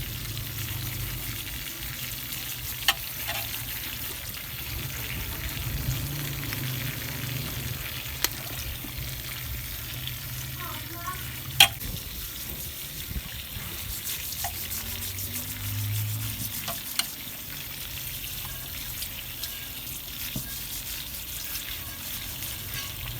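Soaked sheep heads being washed in a sink, with steady running water and splashing and occasional sharp knocks and scrapes against the basin, close and continuous throughout.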